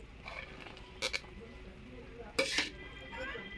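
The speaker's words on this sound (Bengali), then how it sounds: "আমি এবার এর মধ্যে দিয়ে দেবো দেখুন কিছু কাজু আর কিশমিশ" Cashews and raisins go into a pot of sweet mango chutney made from small discarded green mangoes: two bright metallic clinks of a spoon against the pan stand out over quiet kitchen background.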